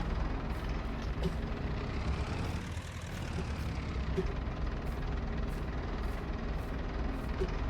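A farm tractor engine runs steadily and loud, a continuous low rumble for the whole stretch with a brief dip in the middle, no talk over it.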